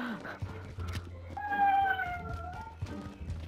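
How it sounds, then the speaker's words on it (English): A dog gives a drawn-out, wavering meow-like cry that rises and falls in pitch, close by, over game audio and background noise. "Is that a dog trying to pretend to be a cat?"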